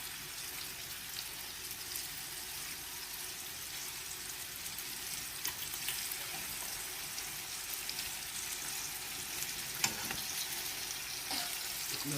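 Chicken frying steadily in a pan over a fire for a chicken and sherry cream sauce, a continuous soft, broadband sizzle with occasional small pops and crackles throughout, with no talking.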